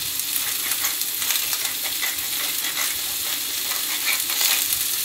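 Fajita vegetables seasoned with salt and pepper fry in a Finex cast-iron skillet, a steady loud sizzle broken by repeated scraping stirs throughout, no voices.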